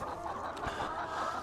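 Backyard homestead chickens cluck in a short, close burst of low throaty calls on a winter morning before a storm.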